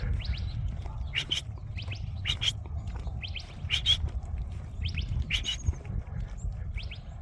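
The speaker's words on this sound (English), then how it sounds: "I don't know what kind of bird that is, but that's a nice chirp." Repeated short, high bird chirps come in bursts roughly every second over a steady low outdoor rumble, moderately distant, on a trail in Albuquerque's Westside.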